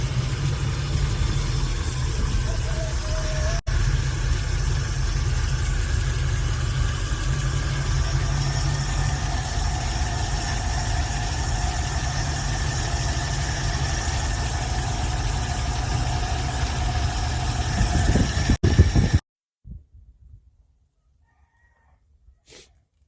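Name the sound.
car engine idling while carburetor choke is adjusted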